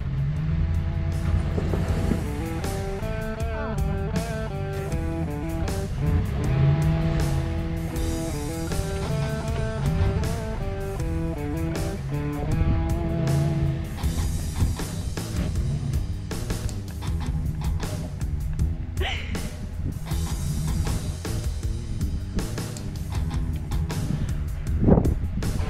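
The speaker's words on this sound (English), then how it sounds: "We'll just rock this truck back and forth," A RAM 1500 4x4 truck with an open differential strains in snow, its engine droning and revving in repeated surges as it rocks back and forth, with some wind buffeting the microphone.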